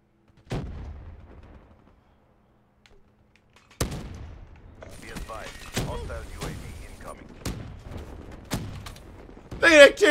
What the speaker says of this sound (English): Yes, sentry gun, kill some shit.